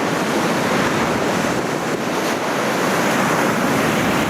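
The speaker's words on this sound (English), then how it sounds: "Beautiful beaches, miles and miles of surf beach, and you've got it all to yourself" Surf breaking steadily on an empty West Coast beach at Talia, a loud continuous wash of waves mixed with wind buffeting the microphone, no voices.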